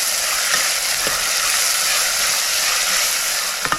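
Onion frying in a pan until soft, a steady, even sizzle that runs continuously with a few faint scrapes of stirring, with no talk over it.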